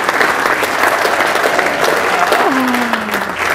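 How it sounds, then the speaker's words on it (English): A crowd at a meeting gives a sustained round of applause, loud and continuous throughout, with a brief vocal sound rising over the clapping near the end. "A nice round of applause."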